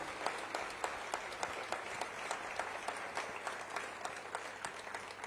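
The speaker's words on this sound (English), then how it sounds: "do a round of applause for our members of parliament from all walks of life, all political parties" Members of an audience in London clap steadily for visiting Indian members of parliament from all parties, distinct hand claps ringing out in a lively, even patter with no voices over them.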